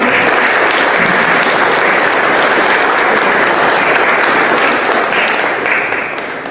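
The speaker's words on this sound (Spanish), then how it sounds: "Un fuerte aplauso para Edgar, por favor." Loud, dense applause from a large audience, steady and sustained for several seconds before tapering off slightly at the end.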